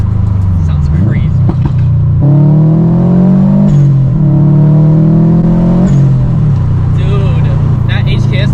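Subaru WRX engine with an HKS blow-off valve revving up through the gears, a loud rising drone that drops between shifts, with a quick hiss at each let-off and a voice speaking over part of it.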